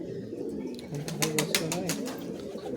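A Giribaz pigeon coos in a low, throaty series of rolling notes close by, with a voice talking faintly nearby.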